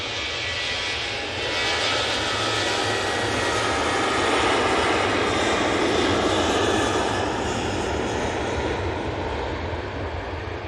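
A Ryanair Boeing 737-800 takes off from Manchester Airport bound for Faro, its jet engines producing a loud, steady broadband roar that holds strong and continuous throughout, with no voices.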